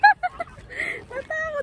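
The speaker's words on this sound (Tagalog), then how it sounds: "Ayan, mga gutom yung mga pato." Several hungry ducks in London's Regent's Park quack in short, nasal bursts, close by, a few overlapping calls in quick succession.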